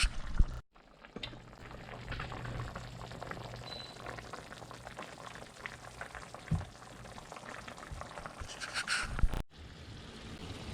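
Pork ribs in barbecue sauce with a splash of soy sauce simmering in a pan, a steady bubbling hiss that runs the whole time at moderate level, with a brief clink near the end.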